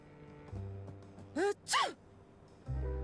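A character in the video game Loco Motive sneezes twice in quick succession, two short sharp bursts standing alone against quiet background music.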